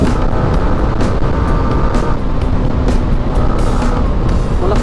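A Yamaha R15M motorcycle being ridden, its engine a steady loud drone with wind rush throughout, no pauses and no talk.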